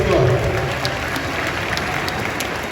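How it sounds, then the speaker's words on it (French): A crowded hall at a political party summit in Kinshasa, Congo breaks into loud, sustained applause, a dense wash of clapping with some voices mixed in, steady throughout. "On peut applaudir très fort."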